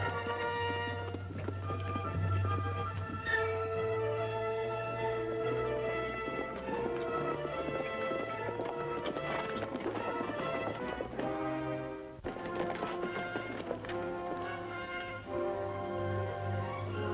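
Horse hooves clip-clop steadily beneath a full orchestral score, the rhythmic hoofbeats running through most of the stretch without any voices.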